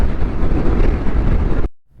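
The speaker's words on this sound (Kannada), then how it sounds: "ಸಿಕ್ಕಾಪಟ್ಟಿ ಗಾಳಿ ಬರ್ಲಿತ್ತದ" Strong wind buffets the microphone in loud, rumbling gusts beside a highway, cutting off abruptly near the end before a brief burst returns.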